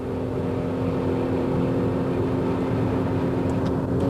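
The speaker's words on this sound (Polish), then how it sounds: "Rzeczywiście samochód przyspiesza bardzo dobrze." Alfa Romeo 156 engine pulling hard at high revs on a road in Portugal, a loud, steady drone with a sustained tonal hum filling the whole stretch, no voices over it.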